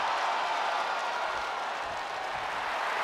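Arena crowd in WWE 2K22 wrestling game roars steadily, a loud continuous wash of cheering and applause throughout with no clear voices on top.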